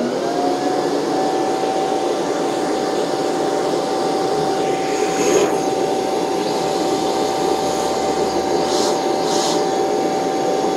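A Shark vacuum cleaner runs throughout an airflow test, giving a loud, steady, unbroken whir with no pauses and no talking.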